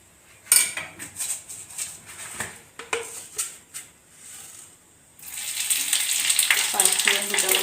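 Panch phoron and chopped onion go into hot oil in a kadai, with scattered utensil knocks and clinks at first, then a sudden, steady loud sizzle of frying up close.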